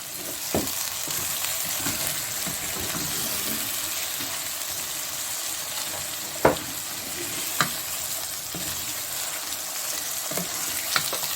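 Mutton mince and zucchini frying in a pan with a splash of water, a steady sizzle running throughout with a few sharp clinks and scrapes of stirring, close and continuous with no talking.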